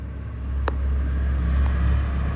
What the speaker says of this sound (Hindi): यहाँ पे ज़रा सा मार्केट के बगल में है, इसीलिए गाड़ी की आवाज़ आ रही है